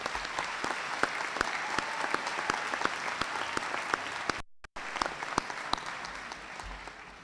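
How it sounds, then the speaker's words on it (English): A graduation crowd applauds steadily with dense clapping that carries on for several seconds, with a brief drop partway through. "let's give her a big round of applause"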